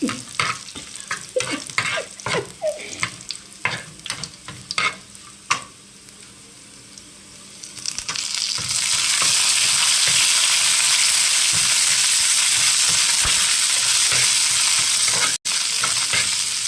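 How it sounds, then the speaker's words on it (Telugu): Spices tempering in hot oil for a Telugu flour curry, first crackling and popping in loud irregular bursts, then swelling into a steady, dense sizzle that fills the rest of the clip with no talking. "ఇది వేసి తాలింపు చిట్టపట్టం అనే వరకు వేసి"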